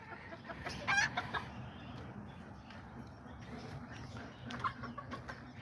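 Chickens cluck in a covered coop where a hen stays with her chicks, soft bursts of clucking and a few louder calls heard close, with a faint voice now and then.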